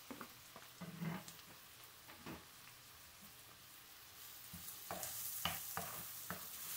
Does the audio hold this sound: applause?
no